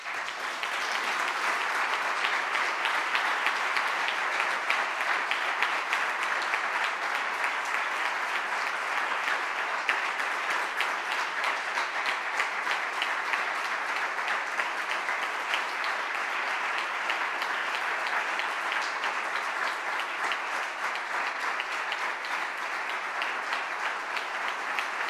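An audience applauds continuously and steadily for a long stretch at the 2019 Premi Catalunya de Sociologia award ceremony, a dense wash of clapping that neither swells nor fades.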